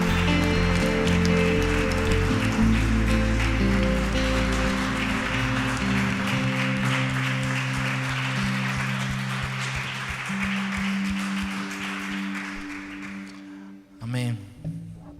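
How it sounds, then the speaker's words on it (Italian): Church congregation in Verona applauding during a worship service, a dense wash of clapping that starts loud over sustained organ or keyboard chords and fades toward the end, when a voice briefly comes in. "Facciamo un applauso al Signore."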